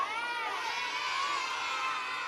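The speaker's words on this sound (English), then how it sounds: "She's cheering you on." Children cheer and shout together at a live community event, a continuous high-pitched burst of overlapping excited voices that stays loud for a couple of seconds.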